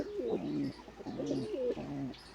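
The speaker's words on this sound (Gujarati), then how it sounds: "અહીંયા રાખોડી કબૂતર સાથે જોડ થઈ ગઈ" Grey pigeons coo in soft, rolling phrases close by, three repeated throaty calls in steady rhythm against a quiet background.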